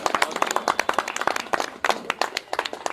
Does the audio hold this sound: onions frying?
no